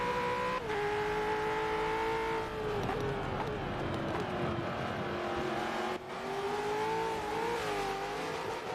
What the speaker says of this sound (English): Oh, it sounded like Shadow was hard on the limiter then.